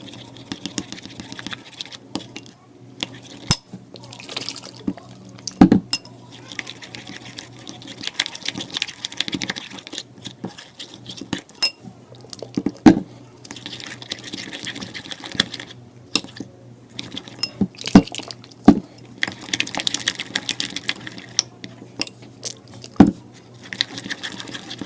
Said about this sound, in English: So guys, I'm gonna mix it now.